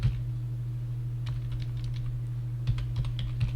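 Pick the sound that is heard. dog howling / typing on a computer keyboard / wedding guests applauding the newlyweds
typing on a computer keyboard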